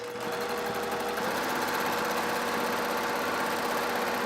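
A sewing machine doing free-motion quilting with a darning foot, running steadily with a dense, rapid mechanical whir and rattle throughout, close and continuous without pause.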